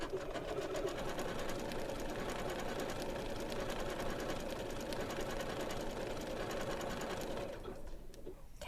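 Janome sewing machine running steadily as it stitches decorative heirloom stitches onto a pair of shorts, a continuous close hum and rapid needle clatter that stops shortly before the end.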